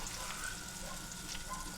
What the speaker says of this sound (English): let the frying begin